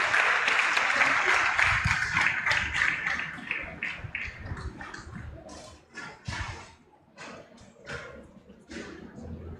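An audience claps at a graduation ceremony, starting as loud dense applause that thins into scattered individual claps and taps as it dies away, with a voice briefly audible.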